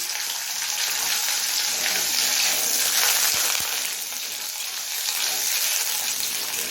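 Long-cut potato strips fry in hot oil seasoned with cumin, dried red chilli and bay leaf, producing a loud, steady, close-up hiss with a couple of brief stirring knocks and no talking.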